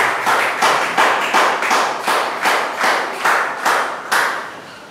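A church congregation claps together in a steady, rhythmic beat of about two claps per second, loud and close, with no talking over it.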